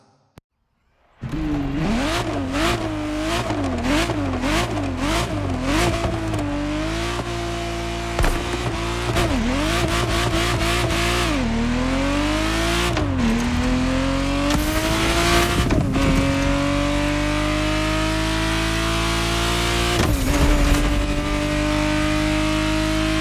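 A Ferrari Testarossa engine from The Crew Motorfest video game revs and sweeps through gear changes, loud and close, with repeated rising pitch climbs and short dips between shifts and no talk over it.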